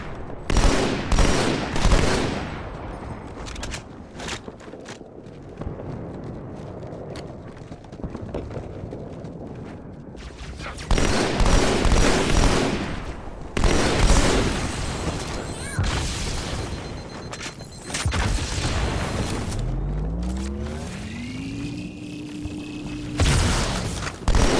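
Battle rifle gunfire in Halo 2 Anniversary comes in loud repeated bursts with booming impacts and explosions, close up across a long stretch of battle with short pauses between volleys.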